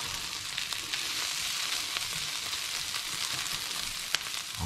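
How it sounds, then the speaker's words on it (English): Onions sauté in a pan for Filipino bistek with pepper, giving a steady close sizzle with faint crackles and an occasional soft stir. "our onions have been sauteing away there"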